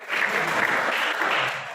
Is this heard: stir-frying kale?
no